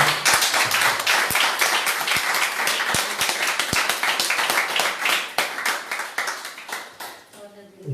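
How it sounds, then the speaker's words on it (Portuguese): A church congregation gives a round of applause during a live service, with sharp individual claps standing out in a steady, fairly loud crowd clapping that thins and fades toward the end. "Vamos dar uma salva de palmas para nós."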